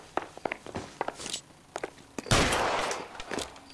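Video game gunfire in L.A. Noire: a few scattered sharp reports and footstep-like taps, then one louder close burst of shots followed by a fading tail, with no talking.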